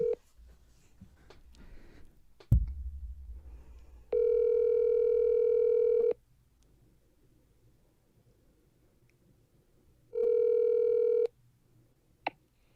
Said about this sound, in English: call my friend Mark